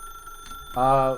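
Telephone ringing in The Stanley Parable video game, a single loud electronic ring starting after a quiet moment and held to the end.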